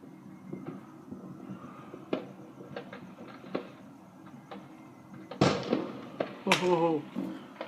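Fourth of July fireworks explode in the distance, with scattered booms and crackles and a couple of louder bursts near the end, while people talk and react in the background.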